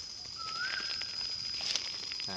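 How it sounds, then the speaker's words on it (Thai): Birds call in the evening in a palm plantation: a few faint, distant chirps and a rising whistle rise over a steady high whine and soft outdoor hiss. No one speaks. "มีเสียงนกร้องยามเย็นๆ นะครับ"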